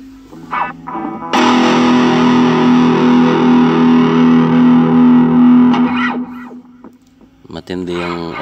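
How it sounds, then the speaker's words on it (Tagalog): Overdriven guitar through a Blackstar amp: a single thick, gritty distorted chord held loudly for several seconds, then cut, followed by short distorted stabs. "Matindi yung overdrive nito kahit wala ka pang gamit na gadget, pero magandang tunog ng kanyang overdrive."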